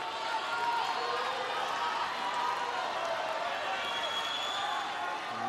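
A tennis crowd at the Australian Open final in Melbourne cheers and murmurs for Rafael Nadal, a steady distant roar of voices with some applause mixed in.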